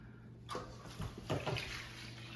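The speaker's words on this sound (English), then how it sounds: "add 750 grams of lukewarm water to the bowl with the starter" Lukewarm water poured into a bowl holding sourdough starter, a short close splash and trickle that starts abruptly and runs on with a couple of louder gushes, no speech.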